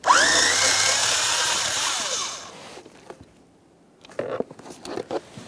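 Power driver with a T15 Torx bit backing out blower motor screws on a 2012-2015 Honda Civic HVAC assembly, a loud whirring run that winds down, followed by a few softer clicks and rattles from handling parts.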